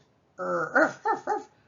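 A human voice imitates a dog, holding a low, buzzing growl for about a third of a second, then giving a few short rough vocal bursts like a bark and grunts, close and clear in a quiet room.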